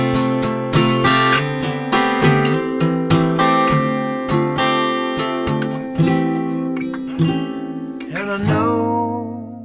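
Acoustic guitar plays a chord passage from the acoustic version of a song, with rhythmic strummed and plucked chords ringing close and clear, ending on a sustained chord.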